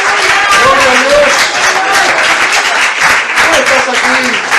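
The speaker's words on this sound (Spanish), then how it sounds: "Dense aplauso a Cristo en esta mañana." A church congregation applauds during a Sunday service: loud, continuous clapping from many people blends with cheering voices and some singing-like vocal tones throughout.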